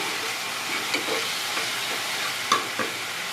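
Pieces of guava fry in ghee with cardamom and cinnamon, a soft steady sizzle under occasional scraping and clinking strokes as the pan is stirred, fairly close and moderate in loudness.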